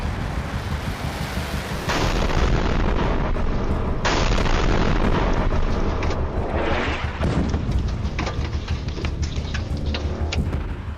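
A one-ton Iranian missile explodes in Israel amid heavy, continuous blast noise, with deep rumbling booms and sharp cracking bursts layered over a constant roar that stays loud throughout.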